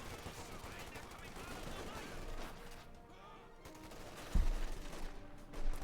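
Gunfire and grenade blasts in Company of Heroes 2, a Wehrmacht versus US Forces match, crackle as continuous rattling small-arms fire with a sharp louder burst near the end, under a caster's voice.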